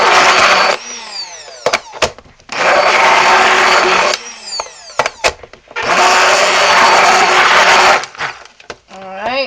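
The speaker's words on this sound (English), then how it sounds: "I have got to buy me another stick blender." A worn, rattly stick blender whirs through soap batter nearing trace in three loud, sustained bursts of a few seconds each, separated by short pauses filled with clicks and handling clatter.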